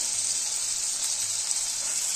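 Chopped tomato dropped into hot oil with browning onion in a pan while making dolkyachi bhaji, giving a steady, even hiss of sizzling that holds at one level throughout, close and alone.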